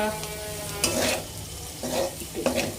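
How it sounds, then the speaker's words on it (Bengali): Garlic and green chili frying in a pan for seafood fried rice, a continuous soft sizzle broken by a few sharp stirring scrapes and clinks of a utensil against the pan. "একটু ভেজে নিতে চাচ্ছিলাম, রসুনটা দিয়ে দিচ্ছি"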